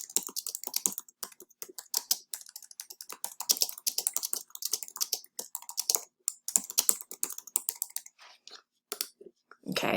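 Rapid clicking keystrokes on a computer keyboard rattle in uneven bursts with brief pauses, close and fairly quiet, continuing for the whole stretch.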